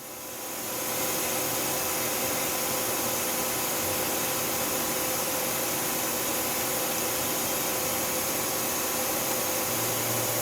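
A Tsugami S206 Swiss-type CNC lathe from 2011 spins its spindle up to 5,000 RPM, rising in the first second into a steady, loud, broadband machine whir with faint tonal whine, continuing unchanged; no voices.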